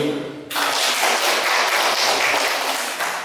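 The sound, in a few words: applause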